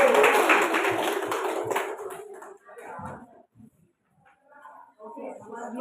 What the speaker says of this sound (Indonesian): Berikan tepuk tangan dulu untuk kita semua.